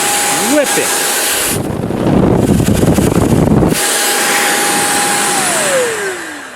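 A Roedix three-speed compressed air duster blows hard on its high setting, a loud rushing roar of air that surges in the middle and holds steadily, with a whining motor tone sliding down at the end.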